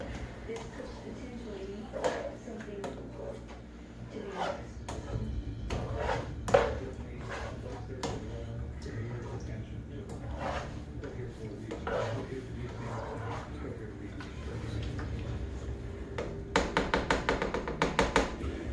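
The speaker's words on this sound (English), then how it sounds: "Now, just mix that around with your spatula." Ground meat and pasta sauce stirred with a spatula in a pan in a home kitchen, giving irregular close taps, scrapes and clinks of utensil on cookware, with a voice talking over it and a quick burst of clatter near the end.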